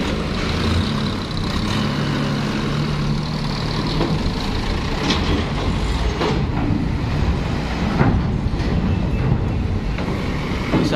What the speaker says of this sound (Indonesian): ini truk-truk oleng semua nih